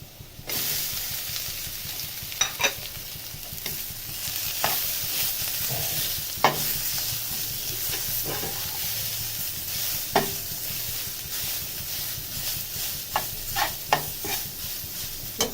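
Greens sizzle and hiss loudly in a hot pan while a spatula stirs them, scraping the metal in repeated strokes. The sound is close and continuous, with no talking.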